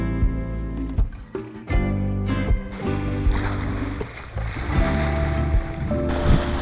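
Waves and rushing water wash steadily around a sailboat under sail at 5.6 knots in a good breeze on the North Bahama Bank, with a continuous hiss of spray and a few louder surges, no talk.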